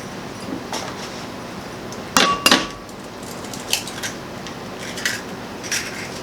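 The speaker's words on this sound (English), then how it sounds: "I'm going to crack 2 eggs into a bowl" Two eggs cracked into a bowl beside a skillet: a pair of close, sharp clinking taps in quick succession, followed by a few fainter clicks of shell against the bowl in a quiet kitchen.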